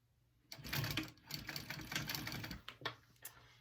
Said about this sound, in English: I'm going to fold that one more time and sew that up.